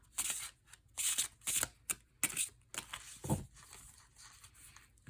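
Cards from a crystal oracle deck are handled and shuffled in a quiet room, giving a string of short, crisp papery riffles and flicks in uneven bursts, close and fairly loud, with no talking.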